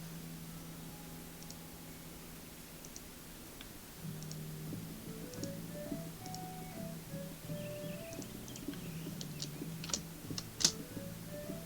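Keys on a computer keyboard tap softly in an irregular string of light clicks, faint and close over a steady low hum, with a few sharper taps near the end.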